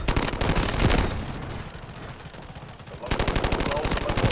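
An AK-12 rifle firing in the Delta Force Mobile video game: loud, close automatic bursts of rapid shots, a sustained volley, then a pause, then another fast burst.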